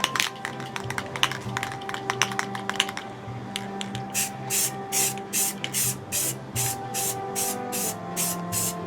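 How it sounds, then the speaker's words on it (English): Bursts of spray paint hiss from an aerosol can, first quick short puffs, then longer evenly spaced light coats, close up over a faint background hum. "I'm just going to spray a couple light coats on here"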